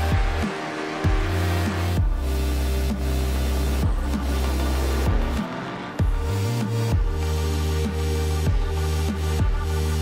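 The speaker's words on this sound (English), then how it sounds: "You can just hear the buzzing of the Porsche behind me as he catches up." A Porsche GTE race car engine in iRacing at the Nürburgring buzzes and whines continuously, its pitch rising and dropping with gear shifts, loud and close throughout.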